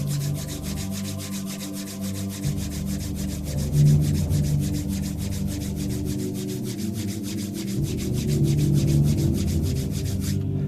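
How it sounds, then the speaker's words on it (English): Two palms rub together steadily and briskly in a continuous close, soft rasping rhythm that lasts about ten seconds, with no talking over it. "We bring our palms together and rub them together 36 times."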